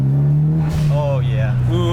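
A 2006 Mitsubishi Evo 9 SE accelerates hard inside a tunnel, its engine note climbing steadily and booming off the walls, loud and close throughout with rising harmonics and a brief dip in the middle.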